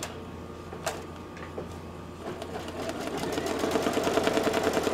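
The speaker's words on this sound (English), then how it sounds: "the first thing it's going to do is stitch out the placement line for the back of the bag fabric" A home embroidery machine with a 6x10 hoop stitches a placement line on bag fabric, a quiet rapid mechanical rattle that starts with scattered clicks and builds into a steady fast ticking run, with no talk.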